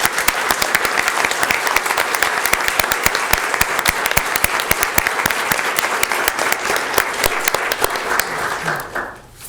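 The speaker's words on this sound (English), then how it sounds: "One last round of applause for all the award winners." A hall full of people at a county board of commissioners meeting applauds award winners, steady dense clapping that holds for about nine seconds before tapering off at the end.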